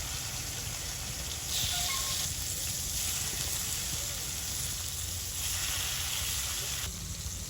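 Pangasius pond fish frying in hot oil in a wok in a village kitchen, with a dense, steady, close sizzle and crackle of spattering oil throughout and no voices.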